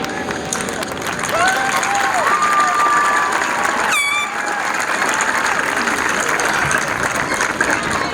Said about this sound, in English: today we want to applaud you